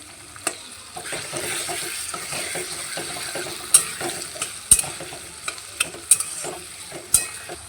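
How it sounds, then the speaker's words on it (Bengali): Potatoes and spices sizzle steadily in soybean oil in a pan while a utensil stirs and scrapes, with sharp clinks of metal against the pan at irregular moments. "আমি মশলাটা দিয়ে দেব একসাথে আরেকটু ভাজা হয়ে যাবে আলুগুলো মশলা কষাতে কষাতে"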